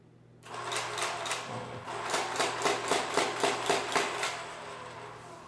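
A Marchant Silent Speed mechanical calculator runs nearby, its gears clattering in a rapid, steady chatter of repeated mechanical strikes over a low hum.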